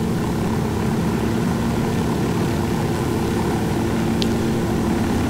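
An aircraft in the Ghost Recon Wildlands video game drones loudly and steadily without letup, a constant engine and propeller roar with no talk.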